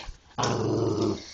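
Two dogs growl at each other during rough play, a short, close, rumbling snarl that starts abruptly after a brief quiet moment.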